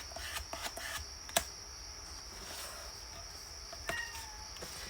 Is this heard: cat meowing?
yes